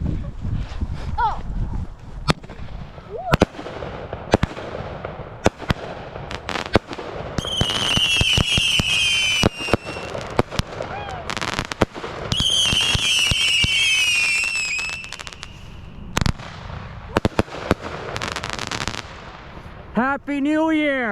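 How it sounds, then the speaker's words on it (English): A Phantom Fireworks Deja Vu firework cake fires at a New Year's celebration: a rapid run of sharp booms and crackles, with bursts of whistling, hissing effects and a final rising whistle. Voices can be heard among the blasts. "here goes Deja Vu by Phantom Fireworks."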